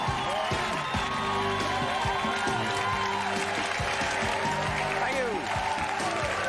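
Studio audience applause fills a TV talk show set, steady and dense throughout, mixed with theme music and a brief spoken voice.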